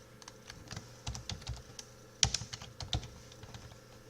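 Typing on a computer keyboard, a short run of soft, close keystrokes in an irregular rhythm with one sharper tap midway, quiet and with no talking.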